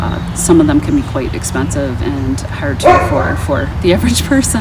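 A dog yips, whimpers and barks repeatedly nearby in short, high bursts while a person keeps talking over it.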